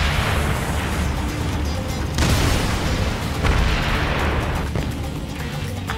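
An aircraft explodes in the Ace Combat Assault Horizon video game, with deep booming blasts that hit hard and roll on amid a continuous roar of combat noise.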